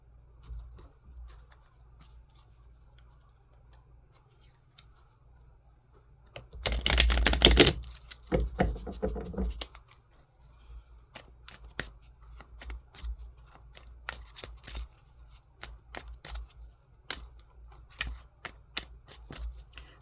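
Tarot cards from the Radiant Wise Tarot deck being shuffled and drawn, a short loud riffle burst followed by scattered light taps and card flicks in a quiet room, no talking.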